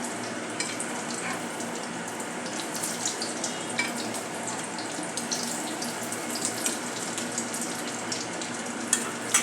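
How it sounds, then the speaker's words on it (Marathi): A vegetable cutlet shallow frying in a pan over a medium-low flame, with a steady watery sizzle and scattered light crackles throughout. "याला मीडियम लो फ्लेमवर तळून घेऊयात"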